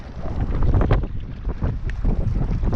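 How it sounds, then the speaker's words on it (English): Strong wind gusts over a lake at Lake of the Ozarks, roaring and buffeting loudly up close in uneven surges, with boat and water rumble underneath and no talk. "That wind has really picked up."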